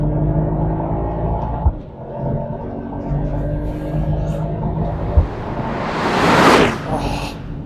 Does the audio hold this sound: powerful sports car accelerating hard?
yes